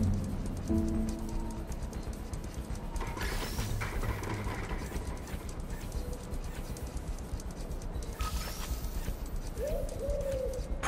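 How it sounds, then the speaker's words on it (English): A pigeon coos on a city street in the video game Marvel's Spider-Man Remastered, soft low coos over a busy ambient city bed with traffic and clopping sounds. "This pigeon's strong."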